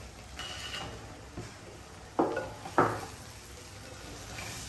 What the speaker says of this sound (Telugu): బెండకాయ ముక్కలు వేసి బాగా కలపండి